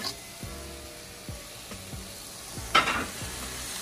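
Saltfish drops into callaloo cooking in a pot, bringing a brief burst of sizzling among soft, evenly spaced stirring scrapes, close and moderately loud with no talk.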